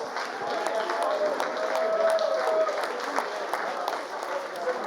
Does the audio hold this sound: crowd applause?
yes